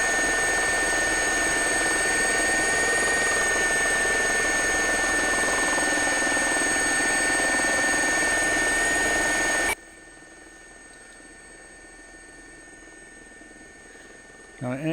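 A helicopter sits on the ground after a wobbly landing at Buckingham Palace, its engine running loud and steady with a sustained turbine whine, then cutting off sharply to a much quieter background partway through.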